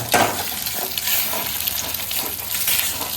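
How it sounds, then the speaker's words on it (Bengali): An egg stirred and fried in a pan gives a steady close sizzle with scraping stir sounds on top, continuous and fairly loud throughout. "ডিমটাকে এরকম নাড়াচ্ছ কেন?"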